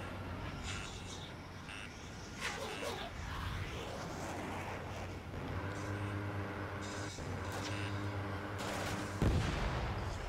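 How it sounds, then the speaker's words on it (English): Aircraft machine gun fire in the Ace Combat 7 flight combat game, a dense rapid rattle of shots over a steady engine drone, with a loud burst near the end. "the machine gun in this game is definitely trickier to use than in previous games"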